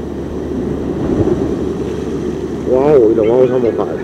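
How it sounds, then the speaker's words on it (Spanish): Heavy sea waves pound a rocky shore during coastal fishing, a constant roaring wash of surf and wind noise close to the microphone, with a brief exclaiming voice near the end. "Como veis, hace mucho oleaje."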